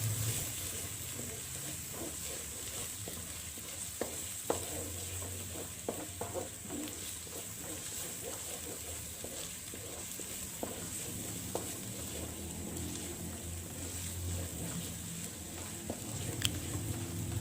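Ground rendang spice paste fries in a pan while being stirred, a continuous soft sizzle and hiss broken by frequent scraping taps of the spoon, fairly quiet and close.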